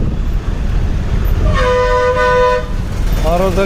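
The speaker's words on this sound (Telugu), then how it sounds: "ట్రాఫిక్." Evening road traffic in Vijayawada rumbles steadily while a car horn gives a long sustained honk and then a shorter second toot near the end, loud and close.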